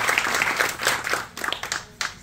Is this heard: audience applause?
yes